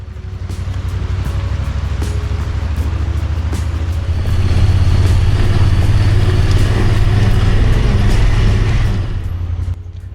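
A Honda Pioneer 1000 UTV on Kenda Klever XT tires drives a rutted trail, its engine a loud, steady low rumble throughout that swells midway and eases off near the end, with faint knocks from the terrain.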